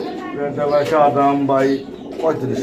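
Pigeons in a Bangladeshi pigeon market, including a red male and yellow female pair, coo in overlapping rounds close by, mixed with people talking nearby.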